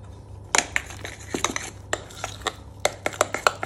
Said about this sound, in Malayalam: ഒന്നും കൂടെ നന്നായി ഇളക്കി